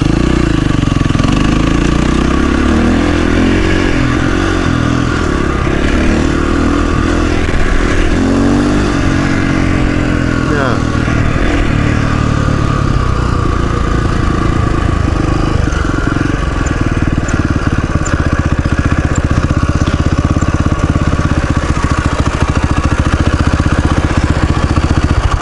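A worn KTM motorcycle with weak compression runs loudly up close, its engine revving up and down unevenly for a stretch before settling into a rough, steady drone.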